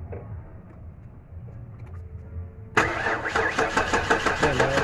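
Ford Explorer with a 4.0 V6 engine being cranked in an attempt to start, a low idle-like hum at first, then a loud burst of rhythmic cranking churning that continues to the end.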